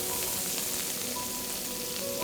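Oyster mushrooms fry in a hot pan with a steady, dense sizzle heard up close, continuous throughout with no talking.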